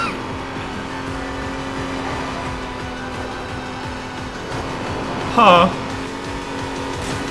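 An Aston Martin V12 Vantage from NFS Most Wanted (2012) drones along at race pace with a steady engine hum and a brief, sharp tire squeal near the end, while someone talks over it.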